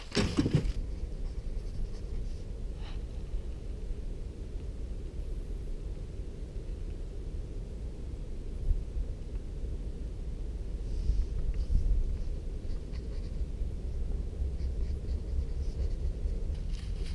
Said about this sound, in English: I'm going to hit up this and start writing